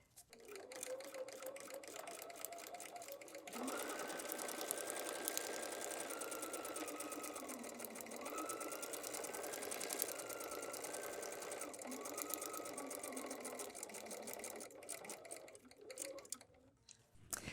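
A sewing machine stitches fabric for foundation paper piecing in a fast, continuous mechanical rattle. It runs for about thirteen seconds, changing pace slightly a few times, then stops with light clicks and handling noise.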